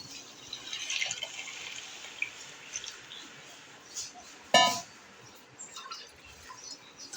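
Buttermilk whisked with gram flour is poured into a pot of okra curry, giving a faint, soft trickle of liquid with one brief, louder splash partway through.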